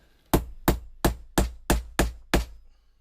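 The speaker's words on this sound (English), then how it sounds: "I'm going to hammer it on the engine head," Seven evenly spaced, loud hammer blows strike a part resting on rubber atop a car engine head, each a sharp close impact with a short ringing decay, with no speech.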